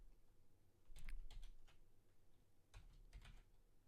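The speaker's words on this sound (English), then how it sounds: "if I'm silent, it's because I'm typing" Quiet typing on a computer keyboard while a server is set up, two short bursts of close key clicks separated by a pause, with no talk.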